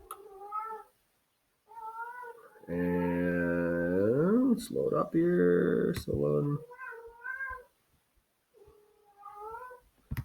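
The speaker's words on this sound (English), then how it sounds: "That is my cat in the background." A nearby cat meows several times, including one long, loud, drawn-out yowl in the middle, while a person speaks briefly.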